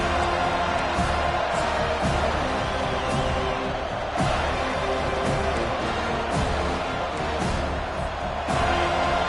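Stadium crowd at a football game right after the opening kickoff: a dense, loud roar of thousands of fans with bursts of cheering and a few sharp thumps, sustained for the whole stretch.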